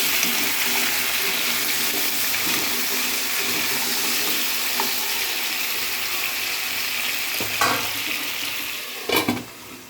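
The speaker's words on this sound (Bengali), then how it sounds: "আমি কচু আর আলুগুলোকে বাদামি করে ভেজে নিয়েছি" Taro and potatoes frying in oil left over from frying fish, a steady broadband sizzle throughout with a few clinks of a utensil near the end.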